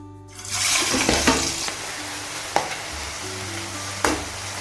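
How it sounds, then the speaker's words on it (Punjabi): Potato peels dropped into hot oil for crispy potato skin chips, a sudden burst of bubbling sizzle that settles into a steady fry, close and fairly loud, with a few sharp clinks of a utensil. "ਤੇਲ ਜੀ ਆਪਣਾ ਗਰਮ ਹੋ ਗਿਆ ਇਹਦੇ ਵਿੱਚ ਜਿਹੜੇ ਆਪਾਂ ਆਲੂਆਂ ਦੇ ਸਲਕੇ ਆ ਉਹ ਪਾ ਲਾਂਗੇ"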